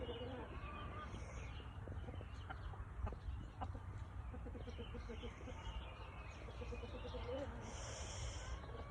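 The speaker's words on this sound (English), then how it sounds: "Come on, chicken. Let me open your eye." A hen with an eye problem clucks and murmurs softly while being held and handled, faint grunting calls scattered over a steady background hum.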